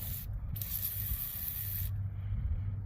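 Penetrating spray hissing from an aerosol can onto rusted lug nuts on an old Ford F100 or Chevy C20 truck, a steady close spray lasting nearly the whole moment with two brief pauses in the high hiss.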